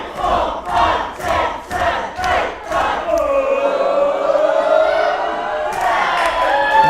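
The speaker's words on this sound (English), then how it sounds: "This crowd firmly behind Victor Logan, even helping him try to win this match." Wrestling event crowd chanting in a loud rhythmic pulse of repeated shouts, then swelling into a sustained, dense roar of cheering from a packed audience.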